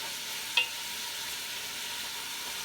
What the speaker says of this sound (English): we're gonna sear this down.